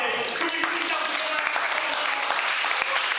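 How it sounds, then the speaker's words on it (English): A college class gives a guest lecturer a loud, steady round of applause, with voices mixed in beneath the clapping. "I want to give one more round of applause to our incredible guest lecturer this afternoon, Eduardo Chavez."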